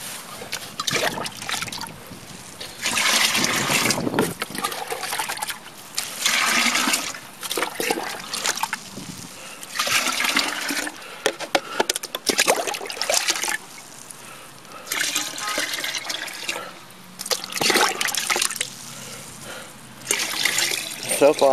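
Rain water poured from containers to mix liquid fertilizer, bursts of splashing and trickling liquid come and go in several separate pours with quieter gaps between.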